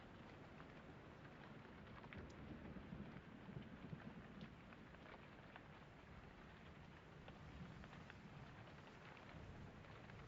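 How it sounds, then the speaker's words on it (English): Rain falls in the video game Pyre as a continuous wash, with faint crackles and low rumbling throughout and no speech. "I think it sounds like raining. It is raining outside."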